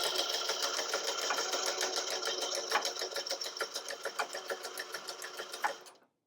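An IKON cleaner pump runs a test to purge air from its feed line, giving a steady rapid mechanical clatter with fast regular pulses that stops abruptly near the end.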